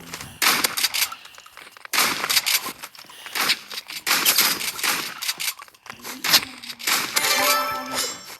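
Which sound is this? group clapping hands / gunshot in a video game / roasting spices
gunshot in a video game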